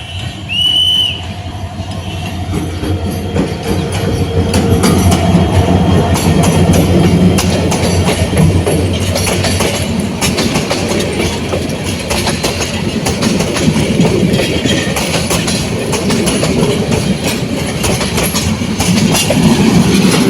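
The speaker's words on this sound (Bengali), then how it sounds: "একটা ট্রেন আসতেছে" The Upakul Express approaching on a rail line near Raipura, rumbling and clattering louder as it draws near, with a brief whistle at the start and steady wheel clack building through the passage, no talk.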